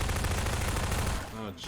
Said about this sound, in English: Gun's loud.